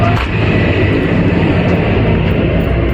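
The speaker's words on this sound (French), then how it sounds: "Excusez-moi pour le bruit des voitures." A steady roar of road traffic rumbles without a break, low and broad, as vehicles pass close by.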